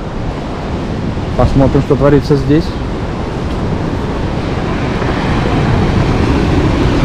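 Sea surf and gusting wind on an overcast day at Lazarevskoye beach near Sochi, a steady broadband roar with constant wind noise; someone speaks briefly early on over it.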